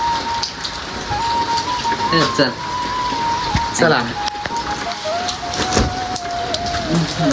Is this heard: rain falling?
yes